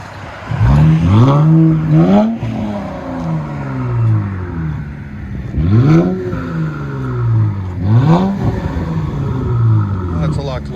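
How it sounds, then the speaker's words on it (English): 2017 Infiniti Q50 3.0L twin turbo with an X pipe and muffler delete revving repeatedly, several sharp rising blips that fall away with turbo whine, loud and close, with someone talking between revs. "You can hear the turbo."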